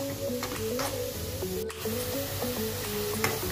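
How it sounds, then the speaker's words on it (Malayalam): Chopped onions and ginger sautéing on a low flame in a pan for a Kerala fried coconut chilli chutney, giving a soft, steady sizzle with faint crackles, alone and close, with music playing underneath. "ഇത് ചെറിയ ഫ്ലെയിമിൽ വെച്ച് ഇതൊന്ന് മുരിച്ചെടുക്കുക"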